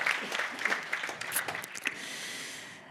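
Brief applause from a forum audience, a scattered patter of clapping that thins out and fades into quiet room tone after about two seconds.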